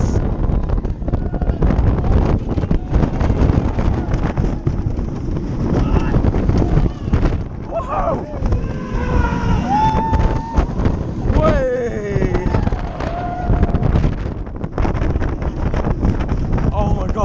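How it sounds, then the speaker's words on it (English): Loud rushing wind buffeting the microphone throughout a ride on the Helix roller coaster at Liseberg, a steady roar with riders shouting and whooping over it. "Last ride of the day on Helix."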